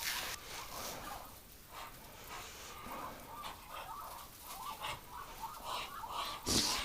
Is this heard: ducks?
yes